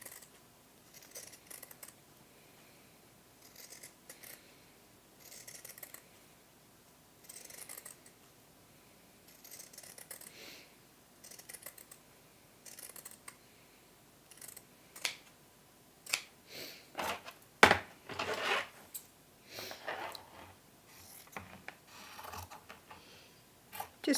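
Scissors snip through fabric seam allowance in short, sparse cuts, quiet and close, with a busier burst of snips near the end and near-silence between them.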